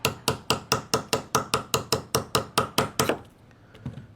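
Clear block of ice, already scored, tapped into cubes: about twelve sharp, evenly spaced close knocks in a steady rhythm, then a short quiet tail.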